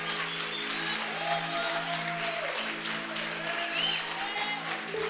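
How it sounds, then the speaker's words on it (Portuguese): A church congregation claps for Jesus during a worship service. The applause is steady and sustained, with held musical tones running underneath throughout. "Para Jesus, aplauda bem forte."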